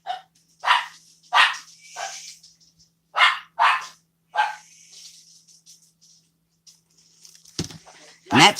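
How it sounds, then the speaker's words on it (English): Small dog barking indoors in a series of sharp, excited yaps, some in quick pairs, loud and close with short silences between, ending in a final burst of barks. "And that's Foxy barking."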